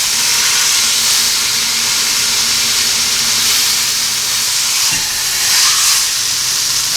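A boneless leg of lamb sears on a grill, giving a loud, constant sizzling hiss close by, with a brief bump near the end as the meat is handled.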